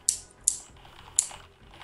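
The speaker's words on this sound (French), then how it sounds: "Quand j'écris sur mon clavier, tu entends?" Three sharp, separate keystrokes on a computer keyboard, quiet and close, spaced unevenly with near silence between them.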